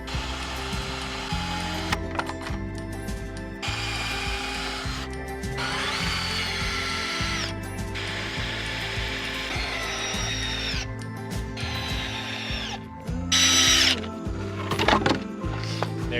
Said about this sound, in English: So I'm gonna first pre-drill, always pre-drill.